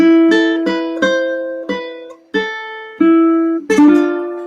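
A plucked ukulele melody of about eight bright, ringing notes at a steady moderate pace, played alone and fairly loud, each note decaying before the next.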